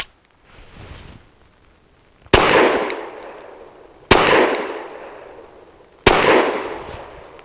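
Three sharp, loud pistol shots from a Saricam S19 fired at an outdoor range, each crack followed by a ringing decay, spaced about two seconds apart with no talking.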